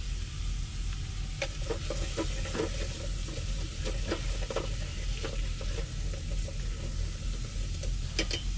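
Chopped onion sizzles steadily in a hot frying pan during a cooking session on the road, a constant close hiss with scattered crackles and light stirring scrapes, no voices.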